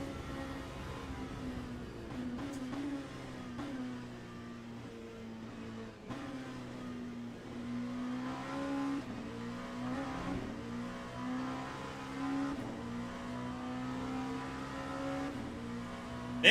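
Prototype race car in the racing game Le Mans Ultimate, its engine droning steadily at high revs with rising and falling pitch as it accelerates and shifts, loud and continuous throughout with no voices.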